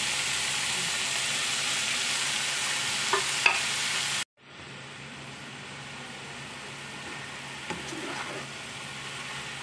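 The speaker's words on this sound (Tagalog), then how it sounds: "And then, ilalagay na natin yung ating karne." Pork sizzles steadily in a hot pan for Bicol Express, a constant broadband frying hiss with a few faint clinks; the sound cuts out briefly midway, then resumes slightly quieter.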